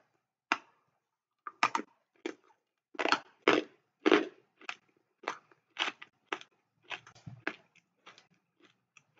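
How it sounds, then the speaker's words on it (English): An orange plastic and resin six-sided die is crushed hard until it shatters, giving a series of about a dozen sharp, close crunches and cracks separated by brief silences. "the plastic and resin is very difficult to get through, but if you just crunch down hard enough, it will shatter"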